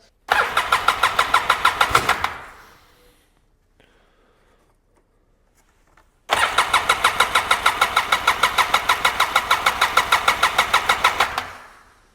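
A small ATV engine with a leaky exhaust revs hard for about two seconds and cuts off, then after a pause fires up again and runs loudly for five seconds, rapid pulsing exhaust, no voices.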